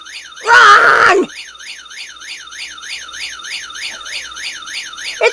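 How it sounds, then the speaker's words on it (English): A small personal alarm sounds off, a loud, steady warbling siren tone that rises and falls continuously after a brief noisy burst at the start. "I had my little alarm set to go off if someone broke it."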